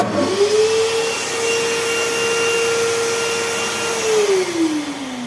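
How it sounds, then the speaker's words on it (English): A workshop vacuum cleaner motor switches on automatically as a miter saw draws power, its whine rising and holding steady at a constant pitch before spinning down near the end, over a background hum. "the vacuum cleaner kicked in when the miter saw called for power"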